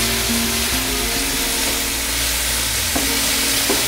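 Beef frying in a pan while being stirred, a loud, constant sizzle close up that fills the whole stretch, with faint clinks of the stirring utensil against the pan and no voices.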